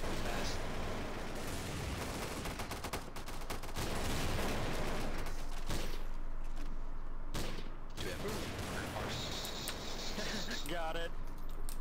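Rapid gunfire from Garry's Mod Zombie Survival, dense and continuous bursts filling the scene, with players talking over the shooting throughout.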